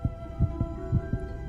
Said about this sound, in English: Sweetheart, you hear my heart beating.